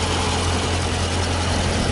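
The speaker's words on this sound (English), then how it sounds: "V8, large displacement engine, 392 cubic inches." The 6.4 liter 392 cubic inch Hemi V8 of a 2015 Dodge Challenger R/T Scat Pack idles with a steady, deep rumble, close and loud, with no talk over it.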